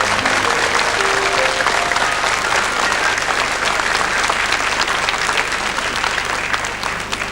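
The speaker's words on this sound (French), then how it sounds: "Et sous vos applaudissements, nous accueillons Mathieu, tout de rouge vêtu" A 1989 French TV studio audience claps loudly and evenly as a child contestant comes on stage, a thick continuous wash of applause that holds throughout.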